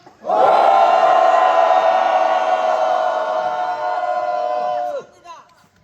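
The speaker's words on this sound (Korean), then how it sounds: "마지막으로 전방에 우리 동지를 위하여 함성 한번 하겠습니다" A crowd at the May 18 Democratic Cemetery in Gwangju lets out one loud, sustained collective shout of several seconds at a memorial gathering, then it breaks off abruptly into brief scattered voices.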